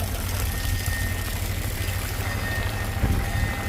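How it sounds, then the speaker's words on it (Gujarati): Heavy rain falls steadily on a flooded village, a dense, even hiss of water close by, with a low engine-like rumble underneath and no voices. "ફૂલ વરસાદ છે ગામમાં"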